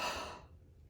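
A single soft exhale trails away as someone holds a squat with a goblet weight, close and faint, fading into quiet.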